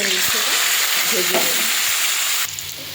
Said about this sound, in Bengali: কড়াইটা বসে উচ্ছে আলু আর মাছের মাথাটা ভেজে নেব